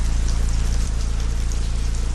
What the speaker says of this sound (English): The rain began falling in Haiti just 2 days ago